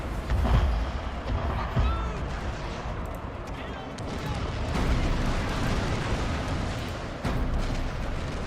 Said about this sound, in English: there's the naval bombardment